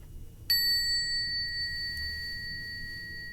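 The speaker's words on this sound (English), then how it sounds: "And we're going to also ring the bell." A small bell rung for a cleansing ritual gives a single bright strike and then a long, clear ringing tone that fades slowly in a quiet room.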